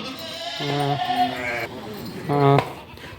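Eight native billy goats and two rams bleat nearby, a couple of drawn-out calls over soft background noise.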